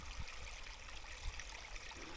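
A babbling brook on the Smithills Estate moor trickles in a steady, faint, continuous wash of running water, heard alone.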